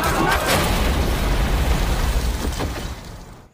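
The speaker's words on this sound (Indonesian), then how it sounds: "tak sengaja tank menginjak ranjau hingga kedua kakinya sukses terpental" A landmine in a war film blows under a tank in Afghanistan. The loud, heavy boom dies into a long rumbling roar that fades out at the end.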